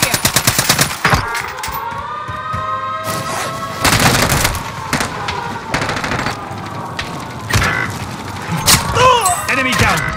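Gunfire in the video game Warzone on Rebirth Island, a rapid machine-gun burst at the start followed by loud repeated shots, booms and impacts over a constant battle din, with occasional in-game voice lines.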